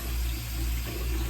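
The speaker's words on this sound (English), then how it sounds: "So let me turn the water on." Water runs steadily from a bathroom tap into a sink, a continuous close rushing flow with a low hum beneath it, alone without voices.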